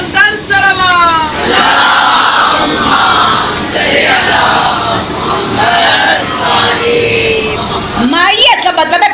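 A large crowd at a majlis recites salawat together loudly, a massed chorus of voices rising in a sustained collective call for several seconds before fading.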